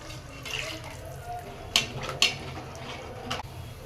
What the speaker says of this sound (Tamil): புளி லெமன் சைஸ் அளவு எடுத்து கரைச்சி சேர்த்துக்கலாம்